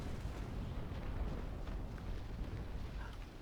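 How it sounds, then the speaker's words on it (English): Ship cannons fire a broadside in the Naval Action sailing game, a dense rumbling barrage of overlapping booms rolling on for a few seconds, with no voices. "That is a solid broadside"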